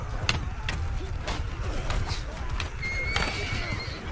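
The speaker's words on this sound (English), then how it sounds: "The horses are just dying in the droves to my archers." Horses whinnying amid galloping hooves during a battle in the video game Bannerlord, with sharp clip-clop hits and a long neigh over a steady rumbling background.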